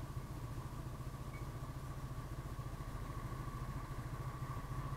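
A motorcycle engine idles steadily and close by, a low, even rumble with a fine rhythmic pulse, fairly quiet and without talk.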